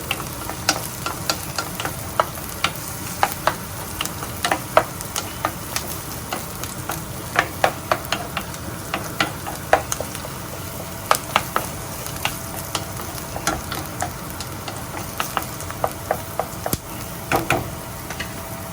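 Onions fry in a pan over medium heat with a steady sizzle, while a ladle scrapes and clicks against the pan in frequent irregular taps as they are stirred.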